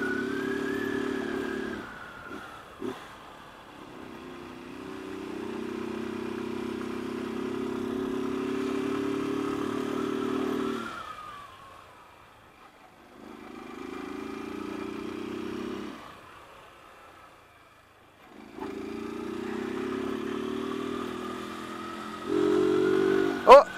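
A motorcycle is ridden through the gears, its engine note rising in repeated pulls separated by short gaps for shifts, moderately loud and close, while a rider talks over it.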